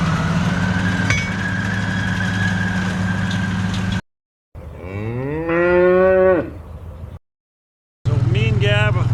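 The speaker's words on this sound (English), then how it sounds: "So me and Gab, we have to bring the red cows home." Red cows moo loudly nearby, two long drawn-out calls with rising and falling pitch, over a steady engine idling in the background.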